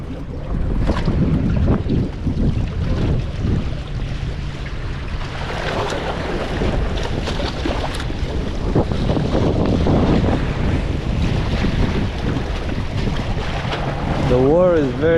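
Strong, steady wind buffets the microphone at a jetty on a windy day by clear water, with a broadband roar throughout and waves washing against the rocks, and a brief whistling tone near the end.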